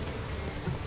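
Rainfall in the video game The Witcher 3: Wild Hunt, a brief burst of steady, dense pattering rain, loud and unbroken, with no voices.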